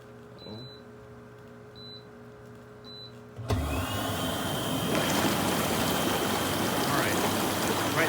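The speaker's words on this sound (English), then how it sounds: "it is air going through the bottom of the spa" After a quiet start, hot tub air jets kick on with a sudden loud rush of air bubbling up through the bottom of the spa, churning water that continues steadily.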